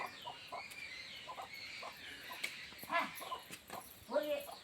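Chickens with young chicks in a Konkan hill village (Dhangarwadi, Hardkhale) cluck in short bursts at moderate distance, while people talk quietly nearby and a couple of louder squawks stand out toward the end.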